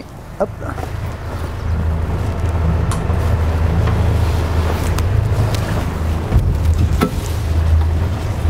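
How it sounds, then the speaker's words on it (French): A catamaran's tender platform lowers toward the water, heard as a steady mechanical drone with wind buffeting and water wash, occasional clunks, and a short spoken word near the start. "on va pouvoir descendre la plateforme. Donc on y va doucement pour pouvoir mettre l'annexe à l'eau"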